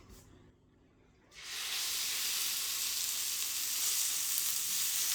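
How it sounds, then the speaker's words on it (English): Venison rolled roast laid into hot fat, bursting into a loud, steady sizzle after a quiet moment and holding as a bright continuous frying hiss with no voices. "And we want to sear this on all sides."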